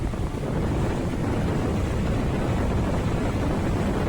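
A flooded river in Wayanad, Kerala overflows its banks, giving a steady dense roar of rushing water that stays loud and unbroken throughout, with no voices.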